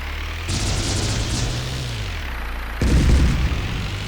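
Gunfire and explosions in the video game M.A.V., two loud booming bursts with rumbling tails, the second heavier and closer.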